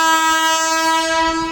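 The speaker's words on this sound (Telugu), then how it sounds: "ఏంటి ఏదో వస్తున్నాయి, వందే భారత్ అనుకుంటా, కొత్త ట్రైన్ అనుకుంటా" A Vande Bharat train sounds its horn up close as it passes, a loud, sustained, harmonically rich blast that holds steady throughout with faint rail noise beneath.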